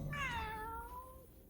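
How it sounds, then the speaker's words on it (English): A single drawn-out cat meow sounds in the Path of Champions card game, gliding down in pitch and fading out over a low ambient hum. "Whoa, cat."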